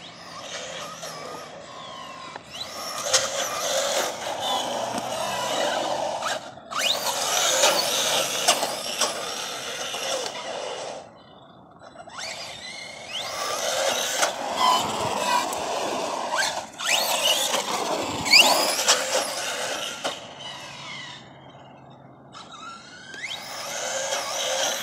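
Arrma Kraton 4s BLX RC car on a 4s LiPo, driving outdoors and popping wheelies, electric motor whining in repeated bursts of throttle with gaps between, tires rumbling and scrabbling on pavement, close and fairly loud, with no talking.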